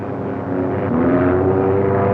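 A black airplane with a big X on its wing drones past, a steady low engine hum that swells slightly louder toward the end, with no voices.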